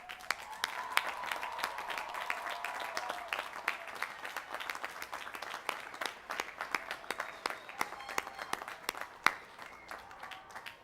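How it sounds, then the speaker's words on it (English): An audience at a college commencement ceremony applauds steadily, many hands clapping in a dense, sustained patter that carries on for several seconds. "join me in giving those special people a well-deserved round of applause."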